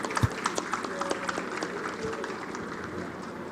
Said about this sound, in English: please give a big round of applause to Ashish and the ISA